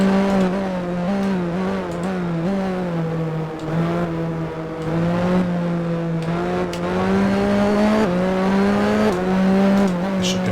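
A 1980s Formula 1 car from the 1988 season screams through a wet race in the Grand Prix 4 game, its engine tone climbing and dropping sharply through gear changes, loud and close throughout.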